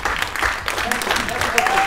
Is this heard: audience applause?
yes